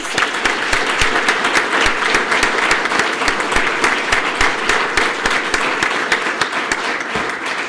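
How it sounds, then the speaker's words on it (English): Audience at a police department awards ceremony applauds steadily, a dense and sustained round of clapping that fills the room throughout with no talk over it. "let's give the officers and everyone another round of applause"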